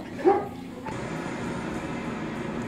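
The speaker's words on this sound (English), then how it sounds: "oh, there goes the dog" A dog gives a single sharp bark close by, followed by quieter room noise.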